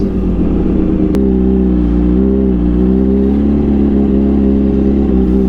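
A video game motorcycle engine roars at a steady, loud, close drone with a sustained rev and slight pitch shifts throughout, alone without talk.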